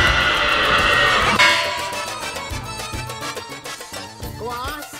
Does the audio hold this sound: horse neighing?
yes